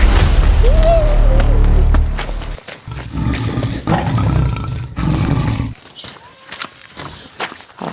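A tiger roar sound effect rumbles loud and deep for about two seconds, then quieter thuds and rustling movement follow, with no talking.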